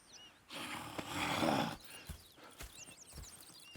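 In the video game Red Dead Redemption 2, a horse snorts and whinnies in a burst of breathy noise, followed by a few scattered hoof thuds and soft clops at moderate distance.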